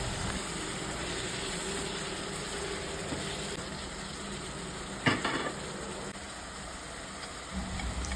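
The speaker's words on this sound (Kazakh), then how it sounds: "Сәбізді де қуырып, осылай үшеуін бірге араластырып жақсылап қуыратын боламыз." Carrots and onions fry in a pan while being stirred, giving a steady close sizzle. A sharp metallic scrape of the spoon against the pan cuts in about midway, and lighter stirring noises follow.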